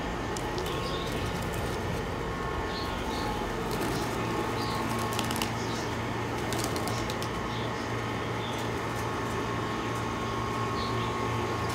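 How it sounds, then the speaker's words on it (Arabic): Pakistani flying pigeons at feeding time outdoors, faint soft cooing and occasional wing flaps scattered through a steady hum of background noise, with no clear talk. "هذا طيورنا مع طيور البرية."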